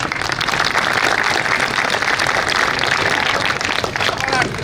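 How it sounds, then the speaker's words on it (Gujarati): Students at a street play for National Youth Day draw a dense, sustained round of clapping from a crowd, loud and continuous from start to finish. "બાળકો માટે ખાસ તો એક તાળીઓ"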